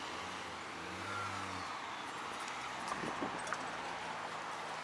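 A BMW passes close on a road beside a pedestrian, a moderate rising and falling engine and tyre whoosh in the first seconds, followed by quieter street ambience with a few light clicks.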